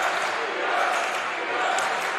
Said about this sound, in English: The crowd gets loud here at Reichert.